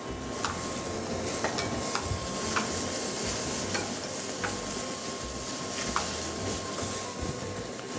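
Onions frying in a pan for an aubergine dish, a constant loud sizzle with regular light taps and scrapes of a utensil as they are stirred.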